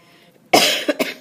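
A single sharp cough, close and loud, with a couple of quick follow-up bursts right after, breaking a quiet pause.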